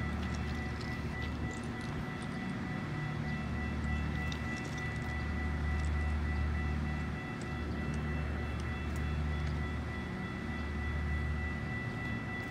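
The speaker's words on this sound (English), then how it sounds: "Okay, so the crossing's still going right now." A malfunctioning railroad crossing signal keeps ringing in a steady, continuous pattern after a GO Train has passed, loud and unbroken, with traffic noise around it.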